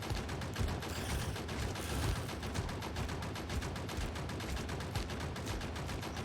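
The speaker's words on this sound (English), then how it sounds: "Good thing the turret can't hit me. Otherwise, I'd be dead right now. That thing's literally shooting me in the back." Steady rapid turret gunfire from the Factorio Krastorio 2 video game, a dense run of quick repeated shots fairly close and continuous, with no talking.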